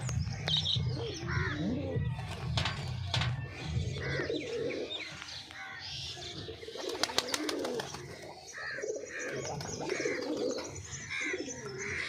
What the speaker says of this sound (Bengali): পায়রাটা ভালোই ডাকে।